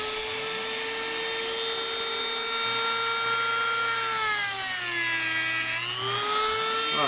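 A rotary tool with a cutting disc whines steadily up close, its high pitch dipping under load midway and then recovering, with no talking.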